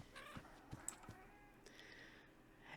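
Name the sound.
kittens meowing in video game Minecraft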